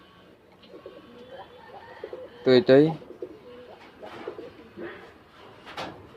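A pigeon gives a loud throaty coo nearby, with softer cooing from other birds around it and someone speaking quietly between the calls.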